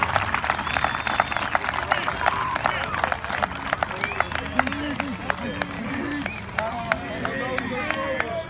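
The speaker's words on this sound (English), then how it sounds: "Let's have a big round of applause for Coach Lindgren" Audience applauding Coach Lindgren at a Liberty Center school event, with sustained crowd clapping and cheering, scattered sharp claps and voices in the hall.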